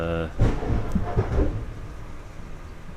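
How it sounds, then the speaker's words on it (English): A deep, heavy rumble of thunder rolls in and fades away, loud and close. "wow, that was some thunder."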